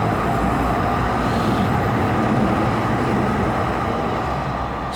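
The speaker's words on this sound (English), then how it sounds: "There goes the C train." A Calgary C-Train light rail car passes on a downtown street, a loud, steady rumble that fills the whole stretch without letup, with no voices.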